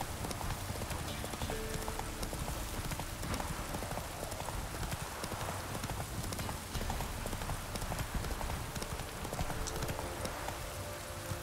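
Steady, rapid hoof clip-clops from the horse Roach cantering in the Witcher 3 video game, continuous and fairly loud throughout against a dense outdoor ambience.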